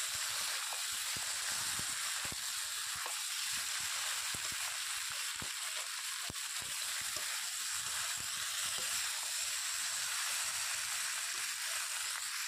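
Ginger paste frying with meat in hot oil, a steady close sizzle and hiss with frequent faint clicks and taps of stirring throughout.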